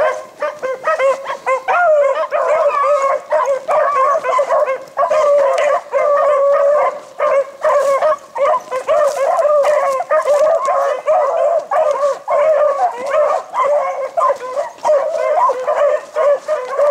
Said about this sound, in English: your old hound dog right there.